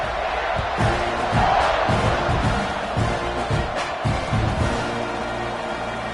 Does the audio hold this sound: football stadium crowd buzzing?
yes